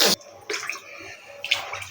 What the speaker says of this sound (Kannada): ಈಗ ನಾವು ನೀರು ಆ್ಯಡ್ ಮಾಡಬೇಕು